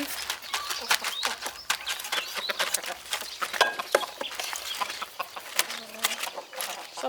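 Chickens cluck nearby in a rural outdoor setting, with scattered short calls and clicks coming in irregular bursts. Faint talk can be heard in the background.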